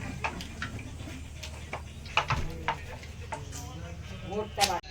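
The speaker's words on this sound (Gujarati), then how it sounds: "હવે પૂરીઓ તળાવી અને મેડમ પૂરીઓ તળી" Soft sizzling of puris frying in oil runs throughout, with scattered clicks and utensil taps and faint voices nearby.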